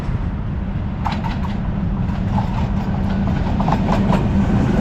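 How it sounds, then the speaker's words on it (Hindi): A GU20 locomotive, number 4555, hauling the Green Line train past, a loud continuous low rumble with rhythmic wheel clatter and rattling throughout, close by. "6 डाउन ग्रीन लाइन इस टाइम आ रही है GU20 के साथ।"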